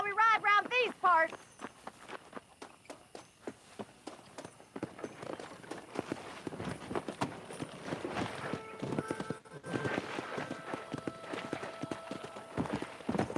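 Galloping horse hooves in Red Dead Redemption on Android, a steady quick clip-clop rhythm that builds after a brief spoken line at the start, running under light game ambience and a faint tonal music layer.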